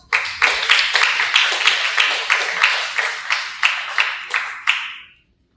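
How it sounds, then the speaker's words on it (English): Classroom round of applause in a business-school ethics class, a steady patter of many hands clapping with rhythmic surges, lasting about five seconds before stopping. "Round of applause."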